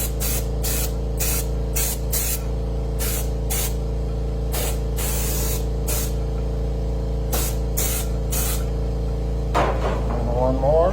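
RC liquid mask sprayed onto the inside of car bodies, with repeated short bursts of close airbrush hiss in an irregular rhythm over a constant background hum, ending with a clatter of handling.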